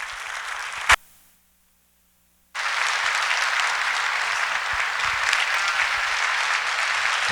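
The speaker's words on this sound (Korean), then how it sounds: "우리 박수로 환영하겠습니다." A church congregation applauds to welcome the pastor coming forward to pray and preach, with broad steady clapping that resumes after a short silent break and continues evenly to the end.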